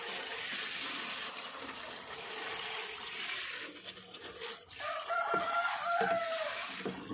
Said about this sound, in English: So we'll add a bit of water to that one.